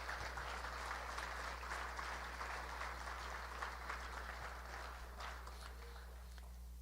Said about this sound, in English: let's give your parents and families and friends a round of applause.